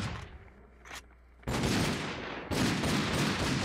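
Bursts of Minecraft gunfire, dense crackling volleys that start abruptly and keep going, loud and close, with a brief quieter pause between.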